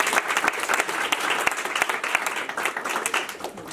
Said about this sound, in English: Could we give Rick a round of applause?